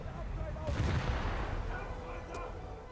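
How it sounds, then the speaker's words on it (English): Battleship Scharnhorst's main guns and secondary batteries firing in War Thunder, a heavy booming blast swelling over a constant low rumble of naval combat, with a faint voice talking underneath. "just blasting him with my my guns and secondaries"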